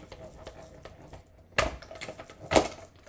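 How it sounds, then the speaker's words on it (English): A small manual stamp, cut and emboss machine pressing Post-it note tape, two sharp clunking crunches about a second apart over quiet handling sounds, close by. "I'm just going to run this through my little mini stamp and cut and emboss machine"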